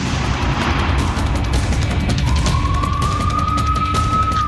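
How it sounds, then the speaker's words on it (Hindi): Air raid warning siren wailing in Israel during a Hezbollah drone attack, a rising tone emerging partway through over loud, constant rumbling noise and repeated crackling bangs. "इजराइल के आसमान में जैसे ही हिजबुल्लाह के ड्रोन दिखाई दिए, तुरंत खतरे के सायरन बज उठे।"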